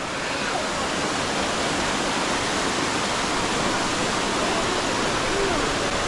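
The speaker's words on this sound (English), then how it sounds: "Oh, look at the river." River water rushing over rocks on Samoa, a loud, steady broadband roar filling the whole stretch without letup, close by.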